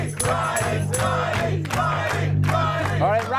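A studio audience at a live comedy talk show cheers loudly and continuously, with whoops and shouts rising through the roar and a few brief dips.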